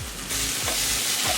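Onion and ginger garlic paste fry in a pan for Kerala pork dry fry, a steady close sizzle that swells after a moment, with several low scraping stirs passing through it.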